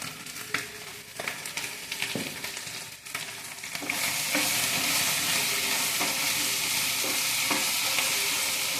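Okra and shallots sauté over a full flame, giving a loud, steady sizzle that swells after a few seconds, with occasional stirring scrapes close by and no talk.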